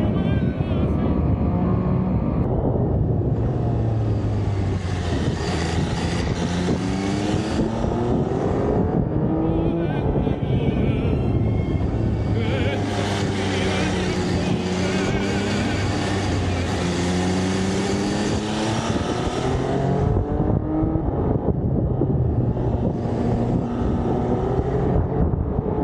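An MV Agusta Brutale 800 RR SCS motorcycle engine and exhaust revs loudly and continuously, with rising and falling pitch sweeps as it accelerates through gears, heavy wind buffeting over it and no clear talk.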